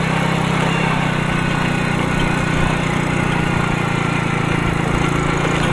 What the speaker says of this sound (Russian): Мопед еще потихивает